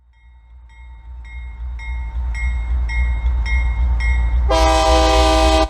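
A train running through a tunnel, a low continuous rumble that builds steadily as a series of short repeated horn tones sounds, ending in a loud sustained horn blast.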